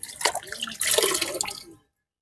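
Fried puti fish being washed in water, with splashing, dripping and sloshing in quick irregular bursts, close and fairly loud, then cutting to silence near the end.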